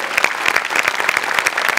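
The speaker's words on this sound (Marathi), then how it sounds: "बाबाजींसाठी एकदा जोरात टाळ्या" Enthusiastic studio audience applause on a Marathi comedy show, a brisk burst of many hands clapping close and loud with no talk over it.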